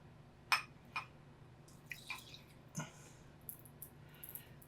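Blue desiccant beads from a humidity indicator in a 3D printer pop and crackle as water is added, giving sharp, scattered snaps and small clicks at irregular intervals with no talking.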